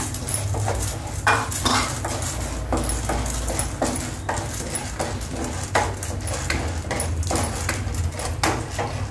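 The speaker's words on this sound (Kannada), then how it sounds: "ಈಗ ಕಡಲೆಬೇಳೆ ಹುರ್ಕೊಳ್ಳೋಣ." Chana dal roasting in oil in a pan for bitter gourd masala curry, with repeated metallic clinks and scrapes of a spoon against the pan over a steady background hiss.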